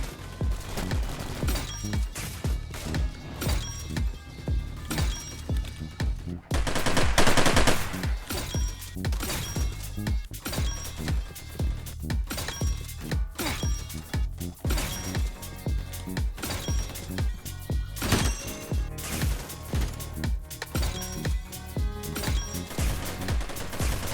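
Rapid, dense video-game gunfire from a DMR rifle build fitted with an 870 setup, firing in near-continuous bursts of loud, close shots with brief gaps over roughly twenty seconds.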